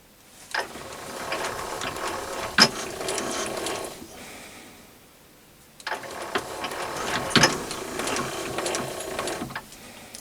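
A metalworking lathe is wound back out by hand during screw cutting, giving two bursts of clicking, ratcheting gear and mechanism noise separated by a quiet pause, with a few sharper knocks.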